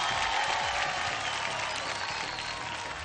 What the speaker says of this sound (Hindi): और अब सब मिलकर जोरदार तालियां दीजिए हमारे grand master of lux dance India dance मिथुन दा के लिए